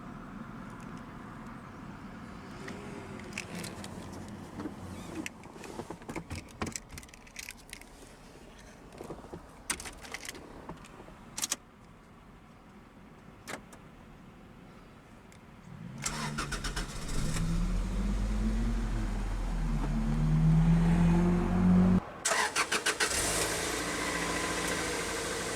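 A 2000 Toyota MR2 Spyder, a mid-engined two-seater, cranks and fires up, its idle settling into a steady, loud hum heard close by, with key and window clicks beforehand.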